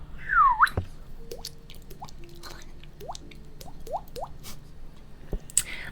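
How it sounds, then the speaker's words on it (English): Water dripping: a series of small, quiet plops and drips spaced out over several seconds, each a brief falling-pitch blip, with a soft low hum beneath. "here's a water noise."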